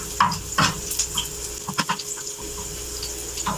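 Garlic sautéing in a hot pan, a steady sizzle with several sharp scraping stirs and clinks of the utensil, close and fairly loud with no talk.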